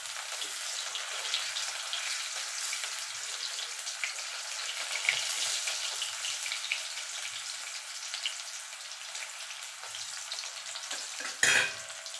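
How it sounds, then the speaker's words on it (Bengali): Potato pieces fry in hot oil for a Bengali spicy egg curry, giving a steady, close sizzling hiss throughout, with a brief louder spatter near the end. "এবার আলুটাকে আমি একটু লাল লাল করে ভাজবো।"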